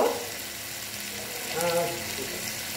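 Rinse water from a bowl of ground mustard and poppy seed paste pours into a hot pan with a brief hiss and splash, while a voice talks over it.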